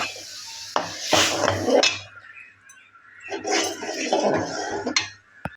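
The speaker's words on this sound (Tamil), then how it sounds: "இப்போ நம்ம பொறுமையாக கிண்ட வேண்டியது" A spoon stirs and scrapes drumstick-flower halwa in a pan, giving two bursts of metallic clinks and scraping separated by a short quiet gap, close and fairly loud.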